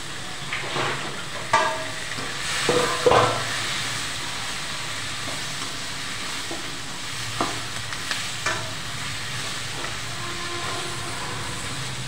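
Eggplant pieces with fried onions sizzle in a pan, a steady frying hiss punctuated by a few scraping stirs and clinks of a spoon.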